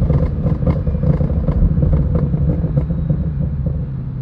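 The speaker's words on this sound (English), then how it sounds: "Every single time I let off on the throttle or even downshift, it just automatically sparks those pops." A 2020 Ford Shelby GT500 rumbles loudly up close, its exhaust crackling with a run of sharp pops and bangs as the throttle is lifted and it downshifts, with no one speaking.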